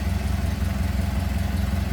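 A 1931 Ford Model A Tudor Sedan engine idling with the hood open: a smooth, steady low rumble with an even, rapid pulsing beat, close and continuous throughout.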